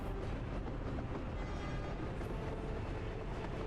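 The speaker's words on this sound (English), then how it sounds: "So let's go off into the sunset with us following this train." A train rolling along in the city-building game Workers & Resources: Soviet Republic gives a steady, quiet, continuous rail rumble that holds even throughout, with no voices.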